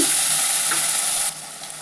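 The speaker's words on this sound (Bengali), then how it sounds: "পেঁয়াজ আদা রসুনের আর কাঁচা লঙ্কার পেস্ট এটা দিয়ে কিন্তু ভালো করে কষিয়ে নেব" Onion, ginger, garlic and green chilli paste frying in a pan for a spicy crab masala, a steady loud sizzle with a soft stir partway through that eases slightly near the end.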